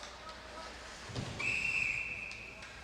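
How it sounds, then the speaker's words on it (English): A referee's whistle stops play at a college club ice hockey game, a single sustained shrill blast heard at moderate distance over arena crowd noise. "As we have a stoppage on the whistle."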